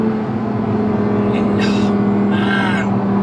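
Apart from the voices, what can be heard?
2019 Audi R8 V10 Performance 5.2 litre engine accelerating uphill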